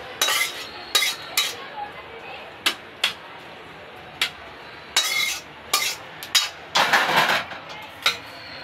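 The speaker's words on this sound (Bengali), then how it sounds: "এই যে আমি ঢেলে নিচ্ছি।" Cooked kochur loti with shrimp scraped from a pan into a dish, a string of sharp metallic spoon-on-pot scrapes and clinks in an uneven rhythm, close and fairly loud, with quiet gaps between strokes.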